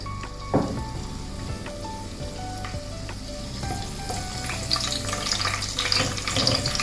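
Curry leaves dropped into four tablespoons of hot oil crackle and sizzle loudly up close, a dense spattering fry that swells toward the end, with faint tonal music playing underneath.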